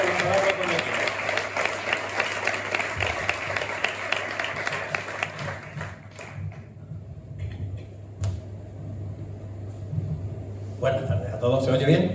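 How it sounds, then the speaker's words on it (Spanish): An audience at a book presentation in Zafra, Extremadura, applauds with sustained steady clapping that fades out midway, followed by a brief quieter stretch and a few scattered claps at the end. "Así pues, un aplauso para Luisma Domínguez"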